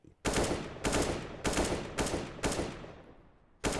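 Six loud, evenly spaced gunshots ring out in a video game, each a sharp broadband blast with a short decaying tail, about two thirds of a second apart, with no voices over them.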